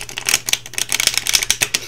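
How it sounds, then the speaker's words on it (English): A deck of cards is shuffled up close, a rapid run of crisp riffling clicks and flutters in quick bursts, loud and alone with no talk. "I know, shuffling is so much fun."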